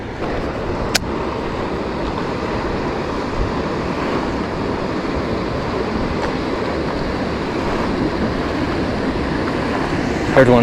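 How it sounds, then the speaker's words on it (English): Broad, steady rushing of churning river water flowing fast near the bank, loud and continuous with no pauses, recorded on a fishing outing with a budget BFS reel. "Look at this water over here. It's like a little river, just churning and churning."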